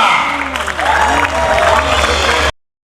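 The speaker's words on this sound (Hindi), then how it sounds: "जोरदार तालियों के साथ किरण मीना" Loud audience applause and cheering with whoops fill a grand finale hall at the Mrs. Rajasthan 2024 pageant, a dense crowd roar with a low hum underneath that cuts off abruptly partway through.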